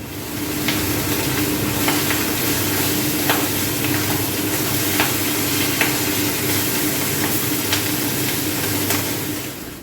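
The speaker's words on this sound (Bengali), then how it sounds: "এবার এই ছোটো মাছটা ভেজে নিই" Small fish frying in oil in a pan, a steady close sizzle and crackle with faint sharp spits and pops, continuous and fairly loud with no talking.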